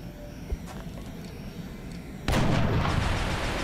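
A precision rifle shot goes off in the XCOM Long War strategy game, a sudden loud blast partway through that follows a quiet stretch and rolls on in a sustained booming roar with no talk.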